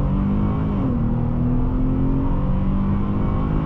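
A 2020 Dodge Challenger SXT engine roars steadily and continuously, its pitch rising as it accelerates, close and loud throughout with no talking.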